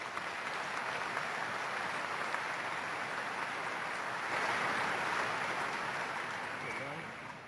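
A commencement audience applauds in a large hall, a dense, continuous wash of clapping that swells slightly midway and tapers off toward the end.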